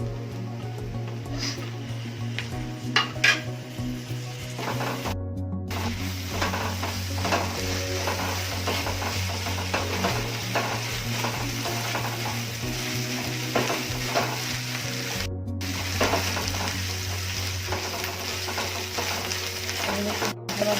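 Minced garlic and ginger hiss and sizzle in a pan with fried onion for a potato and Bombay duck dish, a continuous close frying sound with frequent metal stirring clinks and scrapes.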